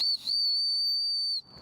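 A single shrill, steady whistle blast, loud and close, held for over a second before cutting off.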